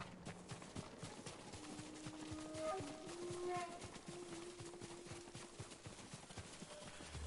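Horses approach at a gallop in the open-world samurai game Ghost of Tsushima, a low steady clip-clop of hooves rising slightly toward the middle under a sustained musical drone and ambient wind, with no voices.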